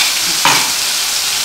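Homemade spice paste hits hot oil in a pan for a fish curry, hissing loudly and steadily with a brief stirring scrape partway through, no voices.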